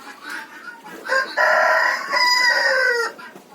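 Quiet clucking from bantam-type chickens leads into a loud, drawn-out crow-like call from a rooster, then trails back to soft clucks.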